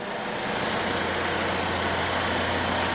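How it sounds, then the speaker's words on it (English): Volvo XC car moving slowly on its own during self-parking, heard as a continuous low engine hum and steady drone from inside the cabin at even loudness throughout, with no talk. "The vehicle goes on its own."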